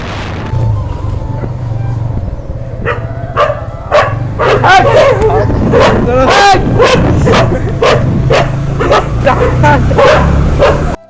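A dog barks repeatedly in loud, close bursts while chasing, with yips and sharp barks coming faster in the second half over steady background rumble and some talk.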